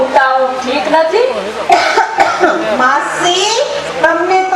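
Repeated coughing from an elderly woman lying ill with fever on a cot in a staged village drama, heard in several bursts mixed with other speaking voices.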